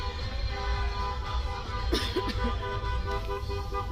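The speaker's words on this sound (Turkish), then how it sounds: "Her yerde korna ve müzik." Busy traffic rumble with a couple of short car horn toots cutting through around the middle, moderately near, during street celebrations of a championship win.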